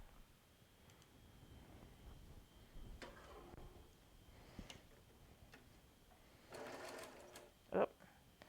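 A sewing machine sews a log cabin quilt block with soft, intermittent ticking stitches and a few louder clunks, faint and close under quiet speech.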